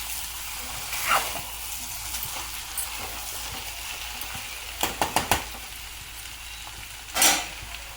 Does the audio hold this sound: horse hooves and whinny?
no